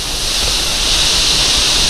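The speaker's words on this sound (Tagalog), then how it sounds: "naririnig natin yung agos ng Hulugan Falls" Water pours steadily at Hulugan Falls in Laguna, a constant loud broadband roar of the waterfall heard close by with no voices.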